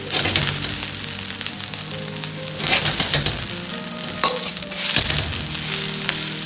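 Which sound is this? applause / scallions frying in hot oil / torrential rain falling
scallions frying in hot oil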